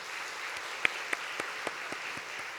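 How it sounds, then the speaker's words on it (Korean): A church congregation claps for the accompanists at a Korean Sunday service, a soft, even patter of applause with a couple of crisp individual claps near the start. "반주하신 우리 권사님과 집사님 박수 좀 한번 해드리겠습니다"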